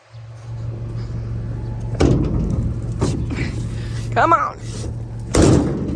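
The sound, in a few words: trailer back gate being shut and latched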